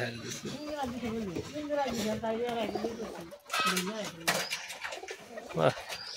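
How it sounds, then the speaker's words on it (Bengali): Native pigeons coo in low, rolling phrases, close by in a coop shared with native chickens, while people talk over them almost continuously. "পুষে বসে কবুতর, দেশি কবুতর"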